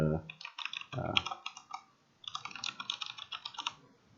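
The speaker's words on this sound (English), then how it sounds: "just type your email" Typing on a computer keyboard to enter an email address, two bursts of quick, close key clicks separated by a short pause.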